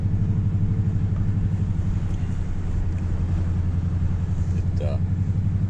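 A Toyota Tundra TRD Pro truck driving on a beach at Cape Lookout National Seashore, a steady loud low engine rumble and tyre drone throughout, with a brief faint squeak near the end.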